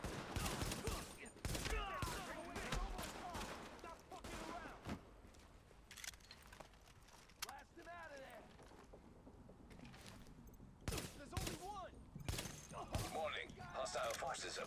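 Rapid bursts of gunfire in the video game Tom Clancy's The Division, loud volleys and crackling shots repeating across the whole stretch, with excited voices shouting over the combat.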